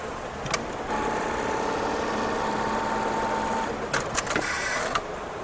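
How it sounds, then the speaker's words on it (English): Automatic eyelet buttonhole sewing machine stitching jeans, a steady close mechanical whirr with rapid needle chatter for several seconds, then a few sharp clicks and clacks near the end. "Now, next we are going to do the eyelet buttonhole."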